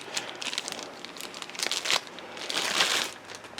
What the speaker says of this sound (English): I'll get the plastic off of here